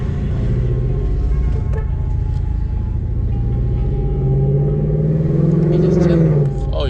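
A Lexus RC F engine in Sport Plus mode drones steadily and then swells as it accelerates, loud and close, with people talking over it.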